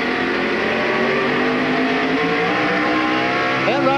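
NASCAR Winston Cup race cars roar around Martinsville Speedway in a loud, continuous, dense engine drone with shifting pitches as the pack laps the short track, and a brief tire squeal near the end.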